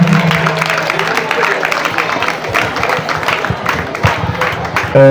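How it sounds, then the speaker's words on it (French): Audience applause at an end-of-year school party at an international school in Libreville, a steady wash of clapping from a hall full of people with crowd murmur mixed in, sustained throughout. "Est-ce qu'on peut applaudir pour lui, s'il vous plaît?"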